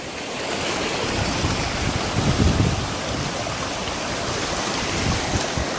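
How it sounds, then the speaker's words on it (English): A rushing river on a Pacific Crest Trail hike near the Whitewater Preserve, being crossed on foot: a steady, close roar of flowing water mixed with wind buffeting, with no talk. "We must have crossed this river about 10 times back down the river."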